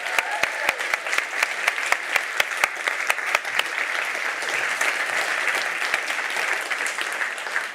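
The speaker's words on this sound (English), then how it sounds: "Give them another round of applause" An audience at a conference applauds a musical performance, starting with several distinct close claps that swell into steady, moderately loud clapping from many hands before easing off.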